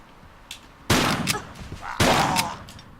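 Two heavy shotgun blasts ring out about a second apart in Tomb Raider 3, each a loud close boom with a short decaying tail, in an enclosed area.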